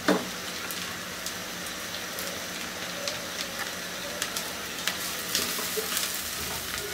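Crushed garlic frying in a hot pan over high heat, a steady close sizzle with scattered crackles and small pops, running continuously without any voices.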